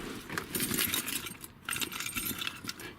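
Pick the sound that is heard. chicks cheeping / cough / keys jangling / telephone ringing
keys jangling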